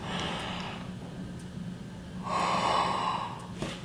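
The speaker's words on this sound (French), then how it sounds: "on va essayer de souffler mais en gardant la bouche ouverte" Breath blown out through an open mouth during a breathing exercise, a long soft airy exhale followed by a stronger, breathier push of air, close and quiet.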